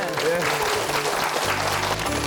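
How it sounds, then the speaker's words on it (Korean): Applause from an audience fills the whole moment, dense and steady, with a voice speaking over it. "우리 고생하신 서정현 씨에게 다시 한번 큰 박수 부탁드립니다"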